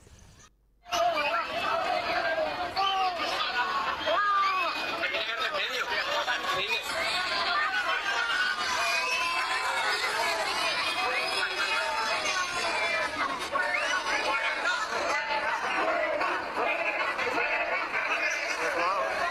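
A crowd booing Rocío Carrasco and the mayor of Chipiona: a dense, steady roar of many voices that starts abruptly after a short silence and holds loud and unbroken throughout, with scattered shouts and laughter in the mix.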